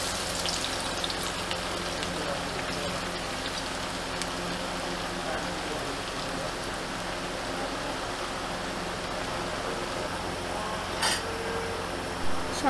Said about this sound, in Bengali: তারপর কয়েকটা শুকনো মরিচ তেলে দিলাম। তারপর রসুন কুচি দিলাম।